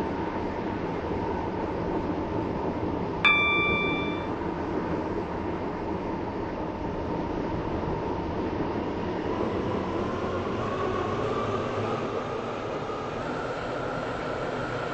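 A Class 730 train in Roblox SCR on the Waterline service runs steadily in a continuous low rumble with rolling wheel noise and one brief bright chime near the start, with no talk.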